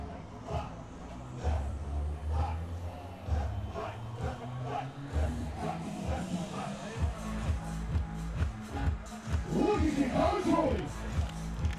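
Crowd at a beach volleyball match on Coolangatta Beach, a steady background of many voices and cheering with music and shuffling underneath, continuous and moderately loud throughout.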